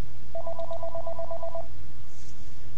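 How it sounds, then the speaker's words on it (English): A telephone rings with a single steady electronic burst of rapid pulsing tone lasting about a second, fairly loud and alone with no talking. "Hold on. Let me answer the phone."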